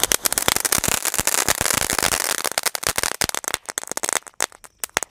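Diwali firecrackers crackle in a dense, rapid burst of sharp pops that thins out into scattered, sporadic snaps toward the end.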